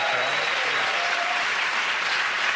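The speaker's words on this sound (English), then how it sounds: "the end of that round of applause going to Russell, Joe and Andy!" A studio audience on a TV comedy panel show applauds, a dense steady clatter of clapping that holds at full strength for the whole short stretch.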